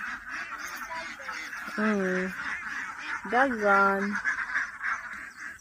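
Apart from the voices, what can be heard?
ducks quacking and honking on a duck farm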